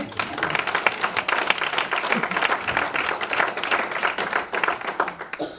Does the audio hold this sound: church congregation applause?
yes